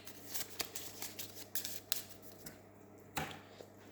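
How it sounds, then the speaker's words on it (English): Cards from The Tea Dragon Society board game riffle and slap softly in quick bursts, a close, quiet shuffling with papery snaps over a low background hum. "these are all shuffled to form a new deck"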